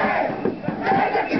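Loud protest crowd at a rally in Netanya shouting a slogan together in rhythmic bursts, voices massed and close, filling the whole moment.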